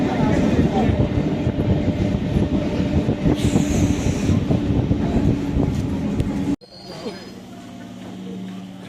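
A passenger train runs along, heard from an open doorway as a loud, continuous rumble and rattle of wheels with wind, a voice speaking over it, before an abrupt cut to a quieter, lower hum.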